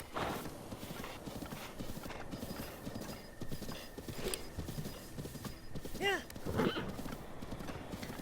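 Galloping horse hooves clip-clop steadily in the video game Breath of the Wild, with a couple of whinnies near the end, over a constant game background.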